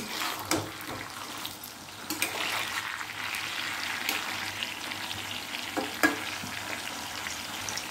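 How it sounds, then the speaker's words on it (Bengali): Pointed gourds fry in mustard oil in a wok, a steady close sizzle punctuated by several distinct scrapes and knocks as the pieces are turned over, with no voices. "এবার তেলে পটলগুলো ভেজে নেব।"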